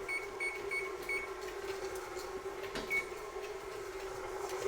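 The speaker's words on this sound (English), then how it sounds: "I'm going to turn my oven on 350 to preheat" A kitchen oven's control panel beeps as it is set to preheat to 350, giving several short, clear tones close by over a steady background hum.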